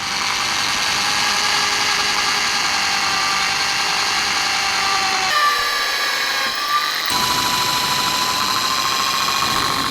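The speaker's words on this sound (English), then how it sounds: "Then we drilled the first hole." A power drill whines steadily at high speed, a loud continuous buzzing drone that briefly shifts pitch midway before resuming.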